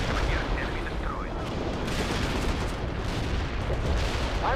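An artillery barrage in World in Conflict forms a dense, continuous roar of overlapping blasts and rumbling impacts, loud and unbroken throughout, with faint radio chirps mixed in.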